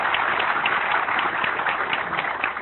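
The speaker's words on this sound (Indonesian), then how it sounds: "Tepuk tangan untuk Pak Louis" An audience at a motivational business talk applauds, a steady crackle of many hands clapping at a fairly strong level with no clear break.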